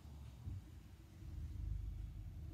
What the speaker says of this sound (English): I hear a truck running.